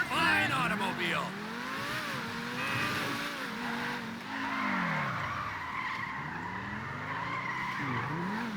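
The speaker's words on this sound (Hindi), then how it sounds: "देखो मैंने मजे मजे में ड्रिफ्ट मार दी, एक हाथ से चला रहा था" In GTA 5, a modded car drifts with sustained tire squeal over a revving engine, with sweeping tonal slides throughout; someone talks over it.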